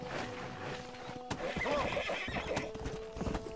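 A horse in Red Dead Redemption gallops with quick clip-clop hoofbeats and gives a sharp whinny, fairly close and moderately loud, with no voices over it.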